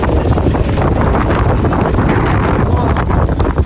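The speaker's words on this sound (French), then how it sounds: "Il y a trop de vent." Strong gusts hit the microphone in a continuous loud roar of wind buffeting, outdoors during a trip in Egypt.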